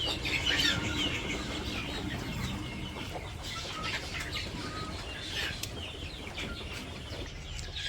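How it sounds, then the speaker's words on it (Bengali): Chickens cluck in a village yard in the morning, with repeated close clucks, some wing flapping and faint chirps from other birds against a steady outdoor background. No one speaks. "ওইদিকে মুরগিরা তো পানি দেওয়া শেষ"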